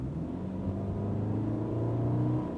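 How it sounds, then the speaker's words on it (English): Subaru Outback 2.5i naturally aspirated engine, a 2016/2017 model, revving at half throttle while driving on road, a steady mid-level rising drone with a low engine hum throughout, heard from inside the car. "when I just like push the throttle half"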